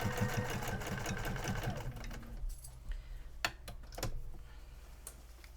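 A sewing machine machine-quilts a quilt block, running in a fast, rhythmic stitching burst for about two seconds. Then it stops and a few scattered clicks and taps follow, all close and fairly quiet.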